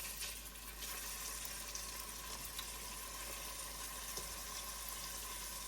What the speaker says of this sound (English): I just want to brown the lamb for a few minutes